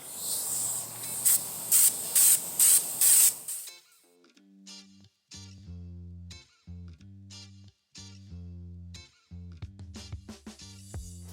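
Several short bursts of bedliner coating spray hiss in quick succession onto Montero bumper and trim, followed by a series of mechanical hisses and pulses with brief pauses between them.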